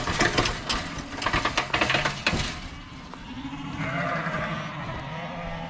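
Lambs bleat several times in quick bursts, close and fairly loud, then quieter farmyard rustling and shuffling follows in a livestock pen.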